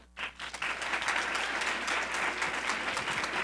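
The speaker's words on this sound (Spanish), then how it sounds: "Entonces, un aplauso, por favor." An audience at a social entrepreneurship event breaks into applause, a dense steady clapping that begins sharply and carries on evenly for several seconds.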